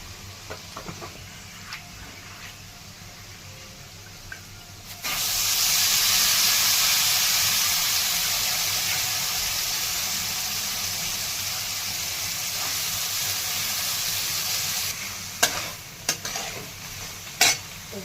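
Vegetables with turmeric and chutney sauté in a pan, a steady sizzling hiss that rises sharply after a few quiet seconds and holds, with utensil scrapes and clinks of stirring near the end.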